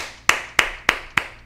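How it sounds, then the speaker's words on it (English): Five sharp, loud hand claps close to the microphone, evenly spaced at a slow steady beat with brief ringing decay after each, otherwise quiet with no talking. "I bet you just blew up their eardrums with that clap"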